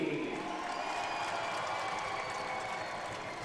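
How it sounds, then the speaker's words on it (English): Stadium crowd at a soccer match at the StubHub Center, LA Blues versus LA Galaxy, cheering and applauding as a substitute returning from injury comes on; a steady, broad roar of clapping and voices throughout. "just listen to that response from the crowd"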